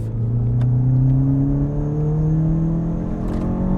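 A Renault Clio 2 RS engine revs steadily while driving, held around high revs with a rising, droning whine close up and loud for the whole stretch, no voices present.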